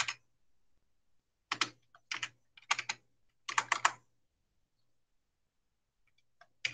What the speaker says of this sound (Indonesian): kita coba ketik ya, Denis tadi.